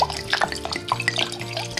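Water poured from a container into a soup pot holding onions and olive oil for a vegan bisque, a splashing, trickling pour with drips, close and fairly quiet, no talk.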